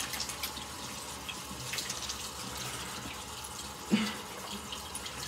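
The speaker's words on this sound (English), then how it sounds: "I'm just trying to wash my hands." A tap runs steadily and quietly into a sink while hands are washed. There is a single soft knock partway through.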